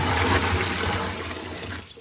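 Water strained off neem compost pours and splashes in a steady loud gush that fades at the end.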